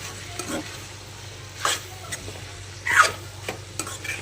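A spoon stirring a simple vegetable bhaji with fresh coconut in a pan, a few scattered scraping strokes over a soft, steady sizzle, close by.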